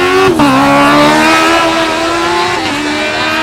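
Chalmers Formula Student race car at FSG 2012 autocross, a loud close engine note with sustained high revs and sharp gear-change dips, held at speed through the final turns.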